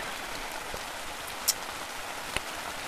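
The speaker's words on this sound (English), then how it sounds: "It's really starting to pour." Steady rain pours down in a dense, even hiss, with a couple of louder drips or taps standing out.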